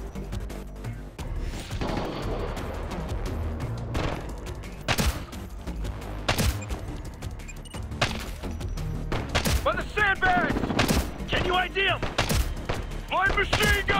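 Bursts of automatic gunfire and heavy thuds ring out in the shooter game Ghost Recon Future Soldier, rapid repeated shots in clusters amid combat chaos, with shouted voices mixed in.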